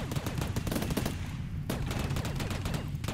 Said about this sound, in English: Jesus, we shot so much that we even took down a stone wall